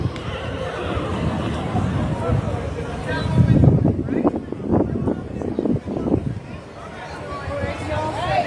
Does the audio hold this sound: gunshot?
no